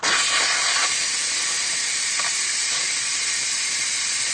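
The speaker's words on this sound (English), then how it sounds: "I'm going to let the steam out." Steam hisses loudly and steadily from the release valve of an electric pressure cooker holding green lentil soup, a broad continuous rush that starts abruptly and stays strong throughout without fading.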